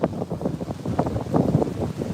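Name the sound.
strong wind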